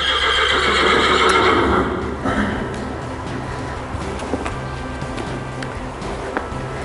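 A horse whinnies loudly in the opening two seconds during a natural horsemanship session in a ring, followed by quieter outdoor ambience with faint hoof and movement sounds.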